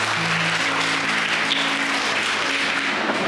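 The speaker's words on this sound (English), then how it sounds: "Children, please clap for them." Children applauding at a school event at St. Joseph's School, Boduppal: a dense, steady wash of clapping from a crowd, continuous and fairly loud throughout, with a faint sustained tone in the background.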